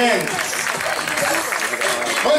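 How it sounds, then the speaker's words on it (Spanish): Strong, dense applause from an audience at a German Shepherd dog exhibition, steady clapping filling the space throughout with a crowd feel and no clear pauses. "ese fuerte aplauso"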